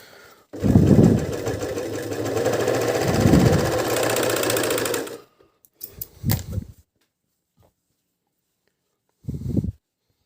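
A Dragonfly 854 overlock machine sews in a steady, loud mechanical whir for about five seconds, then stops, followed by a few short clicks and handling noises.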